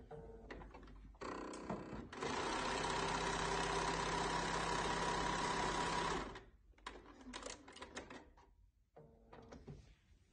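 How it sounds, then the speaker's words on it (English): Sewing machine stitching a test strip through two pieces of fabric: a steady, close mechanical whir lasting about four seconds, with light handling clicks before and after. "So when you do your test strip, make sure you're sewing two pieces of fabric."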